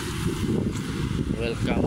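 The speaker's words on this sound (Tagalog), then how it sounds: "Mahangin dito, guys, so mahangin." Steady wind buffets the microphone in a low, continuous roar at Manila Bay, with faint background activity throughout.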